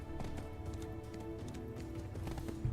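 Horse hooves clip-clop in a steady galloping rhythm inside a video game, a faint, continuous patter running through the short stretch with no talk over it.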